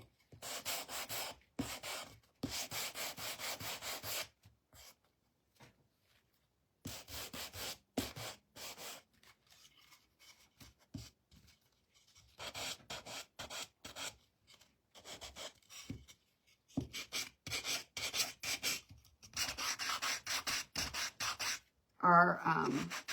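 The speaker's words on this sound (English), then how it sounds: "So I've got my gator sander." A Gator handheld sander distresses popsicle-stick wood pieces in bursts of gritty rasping rub, with start-stop passes separated by short quiet gaps; a voice talks faintly during parts.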